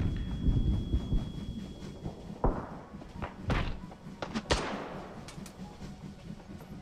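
A gun being reloaded in the VR shooter Hot Dogs, Horseshoes & Hand Grenades, a few sharp metallic clacks and thunks of magazine and action spaced over several seconds, close and fairly loud against low background noise.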